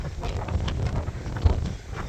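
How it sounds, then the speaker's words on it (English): Gusty storm wind batters the microphone in low, rumbling bursts that rise and fall over a couple of seconds. "And this is how windy it is."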